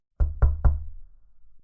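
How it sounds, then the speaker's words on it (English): Three sharp knocks on a wooden house door in quick, even succession, close and distinct, each followed by a brief resonant decay into near silence. "He knocked at the door."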